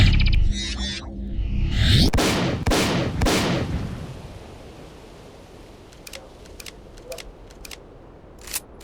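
Shotgun in a first-person shooter video game, with three loud blasts in quick succession after some opening clatter, then a quiet stretch broken by a few faint clicks.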